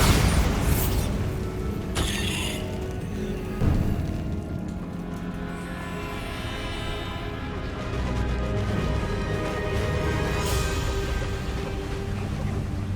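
A Bombarda spell blast from the video game Hogwarts Legacy hits with a sharp, loud burst, then rumbling, clattering debris and mechanical noise rolling on for several seconds.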